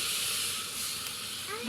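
Water poured onto potatoes frying in a hot pan hisses steadily with a broad, steamy rush that holds fairly level, then brightens and swells near the end.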